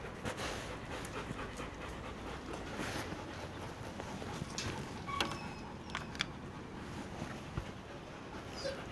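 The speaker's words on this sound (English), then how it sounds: "So as you can see, the dog is ready" A trained dog pants steadily and quietly at close range during a morning routine outdoors, the rapid breathing sitting low under a constant background hiss, with a few faint clicks and footstep-like taps.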